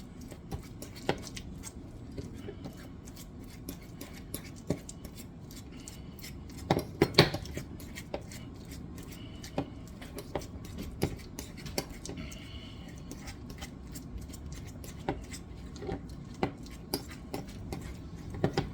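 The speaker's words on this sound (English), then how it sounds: "You say mash with the mayonnaise until it's incorporated." Mayonnaise is mashed in a bowl with a utensil, giving quiet, steady scraping and clinking against the bowl with scattered sharper taps, close by and without talk.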